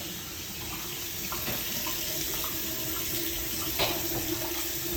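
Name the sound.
hot water running from a tap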